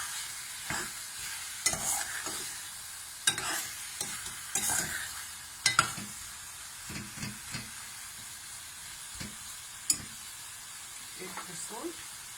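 Jackfruit vindaloo curry with apple cider vinegar sizzles in a pan while a spoon stirs it, giving irregular scraping knocks over a faint hiss, close and moderately quiet.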